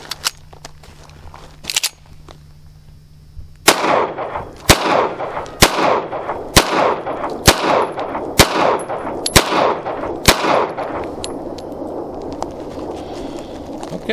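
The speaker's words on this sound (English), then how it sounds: "So let's put a few rounds through this and see what it thinks of this ammo." A Colt 1911 Competition Series 70 pistol in titanium blue fires aluminum-cased ammunition outdoors, with eight loud, sharp shots in a fairly even, deliberate rhythm, each ringing briefly, after a couple of faint clicks of handling.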